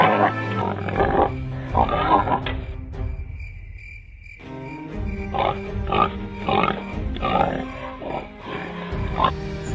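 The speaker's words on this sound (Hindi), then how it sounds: "सैनिक के हमले से वो आदमखोर सुअर बच जाता है और पलटकर सैनिक पर हमला बोल देता है" A man-eating pig grunting as it attacks, in an animated story: repeated rough, loud snorts and grunts close by, over a steady background of chirping insects.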